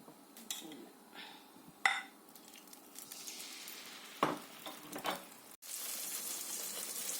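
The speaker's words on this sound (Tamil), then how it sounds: "அது நல்லா இப்படி பொரியணும்." Batter for Burmese atho fries in hot oil, giving a quiet, steady sizzle that swells louder near the end, broken by a few clinks of a ladle against the pan.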